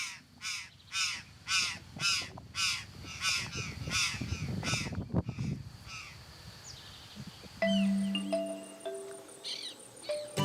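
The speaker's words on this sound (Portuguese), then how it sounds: "encontramos um grupo de gralhas do campo" Curl-crested jays give a string of harsh, rasping calls close by, about ten in a row, then fade as insects buzz and thinner tones take over.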